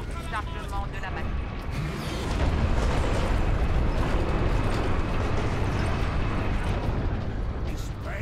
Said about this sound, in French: C'est des gros canons.